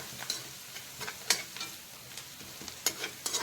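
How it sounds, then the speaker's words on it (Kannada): Fenugreek leaves frying in oil with onion for methi dal, a low sizzle broken by several sharp stirring scrapes and taps, close by and without talk. "ಈ ಮೆಂತೆ ಸೊಪ್ಪು ಎಣ್ಣೆಯಲ್ಲಿ ಚೆಂದ ಫ್ರೈ ಆಗಬೇಕು ಈರುಳ್ಳಿ ಜೊತೆ"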